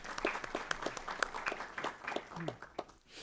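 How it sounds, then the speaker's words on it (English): Audience at a school board meeting gives a short round of applause, sparse and fairly faint, with individual claps standing out in an uneven rhythm and a voice briefly underneath. "So round of applause for Ms. Fettler."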